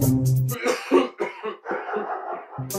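A man gives a rough cough, then a string of harsh, choppy coughs close to the listener.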